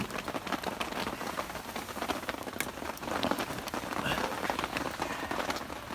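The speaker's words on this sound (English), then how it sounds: "if you can hear water running in the background" Water runs steadily into a 10-litre drum at an outdoor campfire cooking spot, a continuous splashing patter close by that holds through the whole stretch, with no voices.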